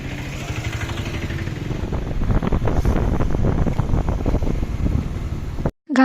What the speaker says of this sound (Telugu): గాలి విపరీతంగా ఉంది.